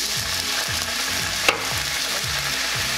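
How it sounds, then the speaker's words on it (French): Loud, steady sizzle of a chicken stir-fry for ginger Szechuan chicken as orange juice goes into the hot pan, with a rhythmic scraping stir and one brief clink. "À ce moment-là, je rajoute le restant de mes liquides, mon jus d'orange, 60 ml"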